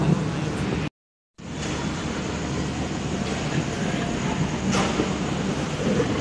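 A KRL commuter train pulls into platform 8 at Manggarai station, a steady rumbling roar of wheels and carriages close by, broken by a brief gap, with faint clatter and no clear talk.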